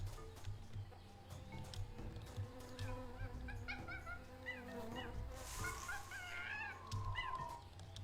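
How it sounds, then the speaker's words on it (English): Jungle ambience in the Tales of Monkey Island video game, with buzzing bees over a steady bed of animal calls and chirps, moderately quiet and continuous. "I heard monkeys and bees. That jungle sure is noisy."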